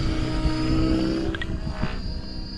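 A helicopter motor runs steadily during autorotation practice, a dense continuous whine and rumble with a constant high tone, loud and close with no talk.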